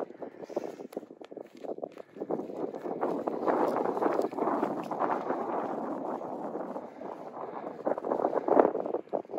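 Gusty wind buffets the microphone in rising and falling surges, roaring loudest in the middle and near the end.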